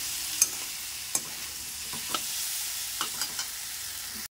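Dal frying in a pan hisses and sizzles steadily while a spoon scrapes and stirs it in sharp, irregular knocks, heard close up with no talking.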